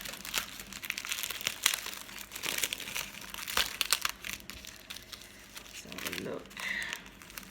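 Crinkly wrapping on a vintage sewing-themed monthly craft box crackles and tears in irregular bursts at close range as it is pulled open, with someone speaking briefly over the handling.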